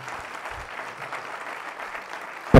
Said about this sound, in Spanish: Un aplauso fuerte para nuestra querida